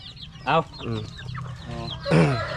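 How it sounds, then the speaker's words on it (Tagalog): Several chickens cluck and squawk close by in short bursts, with a louder call near the end and faint background noise. "Yung mga manok kay Tatsuki mga idol."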